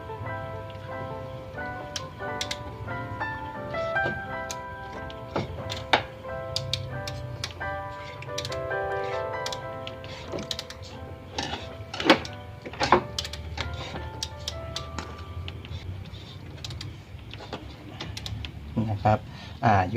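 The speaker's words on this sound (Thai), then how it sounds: "เดี๋ยวผมจะ ทำการหมุนเครื่อง 2 รอบนะครับ" Engine turned over two full revolutions by hand with a wrench during timing belt repair, giving a steady run of light mechanical ticks and ratcheting clicks at close range, with no talk.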